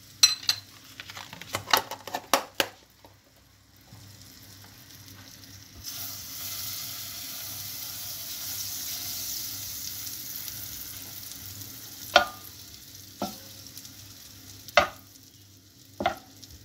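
A spoonful of butter melts in a pan with a soft, steady sizzle in the middle, framed by loud clinks and knocks of utensils against the cookware before and after. No one speaks.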